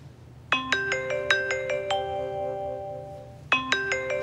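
A telephone ringtone plays a bright repeating melodic phrase, loud and close, with a pause before the pattern starts again.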